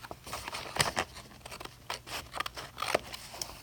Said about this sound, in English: I think I'm just going to cut it.